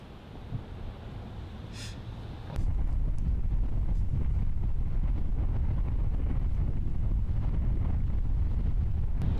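Strong wind buffets the microphone outdoors on a disc golf course during a women's tournament round, a steady broadband roar that jumps louder partway through and stays heavy to the end, with no talk.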